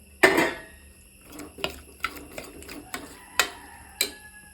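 Potato and chicken tip into a cooking pan of sautéed onions for a chicken drumstick curry: one loud clattering burst followed by several sharp, separate metallic taps and clinks against the pan, close by, with no talk.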